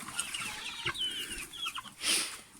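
Nearby hens and young roosters cluck and chatter in short bursts, with one louder squawk toward the end.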